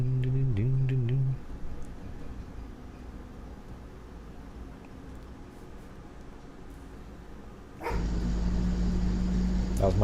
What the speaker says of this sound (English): That was my dog.